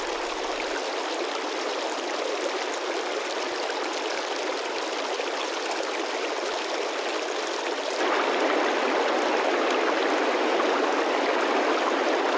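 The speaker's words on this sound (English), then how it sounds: "meltwaters feed a wild river" A wild river swollen with spring meltwater rushes steadily in the Tian Shan mountains, a dense, constant roar of flowing water that grows slightly louder near the end, with no voices.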